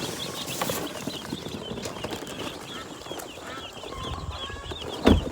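Young meat chickens from a hatchery in Alabama, just arrived, chirp and peep in scattered bursts, with rustling and shuffling movement underneath and a sharp knock near the end.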